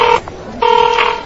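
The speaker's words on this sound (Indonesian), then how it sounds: "Ayo, telepon bos dulu deh." A phone call being placed to a boss, heard as a steady electronic tone that sounds in two bursts with a short gap between them, fairly loud and alone with no talk over it.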